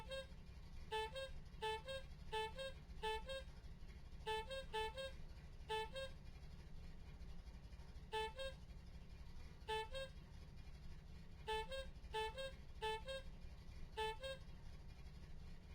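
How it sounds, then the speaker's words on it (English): A clown-like car horn in the video game Voices of the Void honks again and again in short, uneven bursts of toots over a steady low background hum, with no talking. "I love that the goddamn car horn is like a clown horn."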